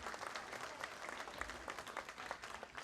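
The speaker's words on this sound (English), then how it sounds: "Can we give a big round of applause to Auntie Chiling?" Audience at a women's summit morning session breaks into sustained applause for a former teacher, a steady wash of many hands clapping, quite faint and distant throughout.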